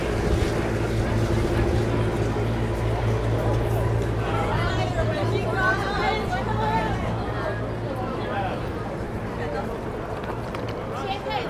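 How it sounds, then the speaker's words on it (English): Strong wind buffets the microphone on a Manhattan street near Times Square, a continuous low rumbling roar with city noise beneath, while a person talks over it. "It's so windy right now."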